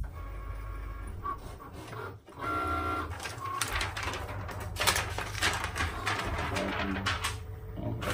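A Cricut Maker cutting machine runs steadily, a continuous busy mechanical whir and clatter with shifting motor tones, close by and moderately quiet, with no clear voices.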